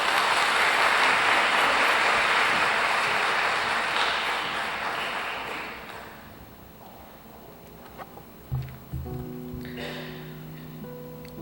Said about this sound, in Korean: 함께 용기 내시라고 많이 떨리실 건데 우리 박수로 맞이하겠습니다